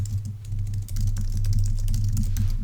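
Steady, close typing on a computer keyboard, with quick irregular key clicks running throughout over a faint low hum, no talking.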